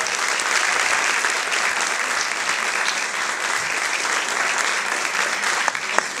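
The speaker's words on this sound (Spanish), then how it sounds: "Así que yo creo que eso también merece un fuertísimo aplauso." Dense, sustained applause from a concert crowd, steady and full throughout with no talking.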